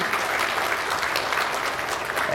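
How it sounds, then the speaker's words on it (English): Moderately quiet, continuous applause fills the room at a pharmacy-software user conference as the audience honors the marketing team, steady and evenly spread with no speech over it. "So a huge round of applause to those guys, for putting in the work for Xplore."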